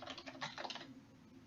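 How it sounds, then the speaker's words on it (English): Fingers tap quickly on a computer keyboard, a short quiet run of close clicking keystrokes that trails off into silence. "Type your desired major into this field"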